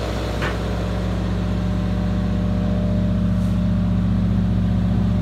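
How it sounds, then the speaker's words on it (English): A Cummins generator on a Bauer mobile breathing air trailer for a fire department runs at a loud, steady drone with a deep harmonic hum, constant throughout and close by. "As you can hear, the Cummins generator was running."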